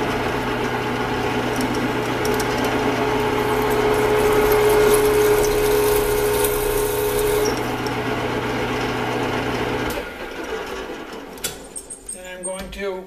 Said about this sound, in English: and that's the drill.